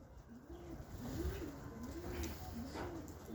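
Pigeons or doves coo outdoors on a sunny day, a series of soft, rhythmic coos repeating over quiet background noise, faint and somewhat distant.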